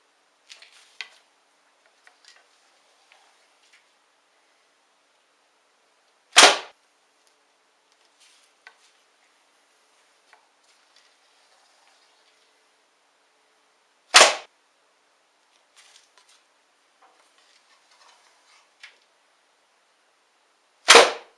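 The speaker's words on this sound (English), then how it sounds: "this is me now shooting with a short bow" Three arrows are loosed one by one from a short bow with a wooden core and glass-fibre outer layers. Each release is a sharp, loud snap, spaced several seconds apart, with faint rustles and clicks of handling in the quiet between shots.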